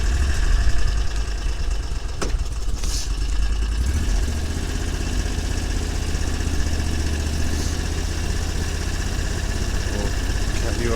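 Small vehicle engine idling after a choke start out along flooded fencelines, a steady close rumbling drone with a faint voice or two over it.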